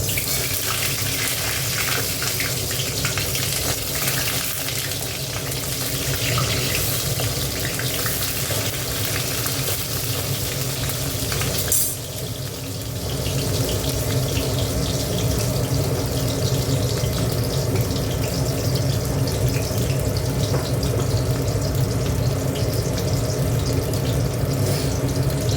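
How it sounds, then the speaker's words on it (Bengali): Water being poured over soybean chunks (bori) in a kitchen to soften them, a long, steady, close rush of running water that dips for a moment partway and then continues unbroken, with no speech. "জল ঢেলে দিচ্ছি বড়িটা, তাহলে নরম হয়ে যাবে বড়িটা।"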